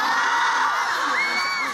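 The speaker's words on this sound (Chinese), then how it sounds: "现在我不拦你们了，尖叫声啊，掌声啊" A dense concert crowd at a fan meeting in Changsha screams and cheers loudly and continuously, with high-pitched shrieks rising over the roar.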